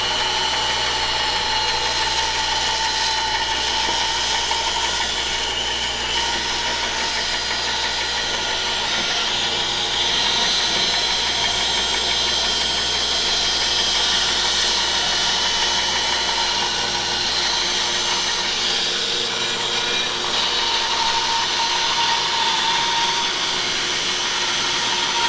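A Harvey Alpha bandsaw resaws a board all the way through, a loud continuous motor hum with a steady cutting whine that holds evenly throughout, with no talking.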